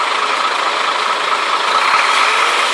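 A cargo truck's engine idles after being restarted, a loud, steady broadband drone close by with no talk.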